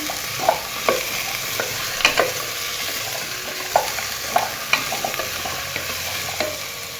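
Grated carrots stirred and sautéed in ghee, a steady low sizzle broken by repeated clicking scrapes of a spoon against the pan at irregular intervals, close by and without speech.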